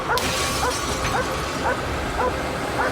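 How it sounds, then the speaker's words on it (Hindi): A detection dog barks repeatedly at a car during a search, short sharp yips at a steady rhythm about every half second over loud broadband outdoor noise. "सेज इस कार पर भौंक रही है।"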